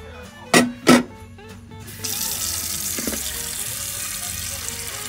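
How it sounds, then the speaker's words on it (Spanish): Water running from a kitchen tap into a cooking pot holding a pork leg being boiled, a steady hissing splash that starts after two sharp clanks of metal and continues alone to the end. "Le voy a agregar más agua."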